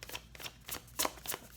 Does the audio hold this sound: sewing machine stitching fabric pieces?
no